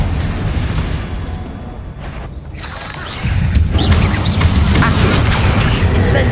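Fiery Confringo spell blasts from the Hogwarts Legacy video game, a dense roaring rumble of explosions that grows louder and heavier midway through, loud and continuous with game sounds layered over it.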